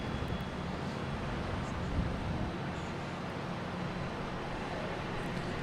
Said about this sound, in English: Here's Delta and A220 coming from Dallas-Fort Worth.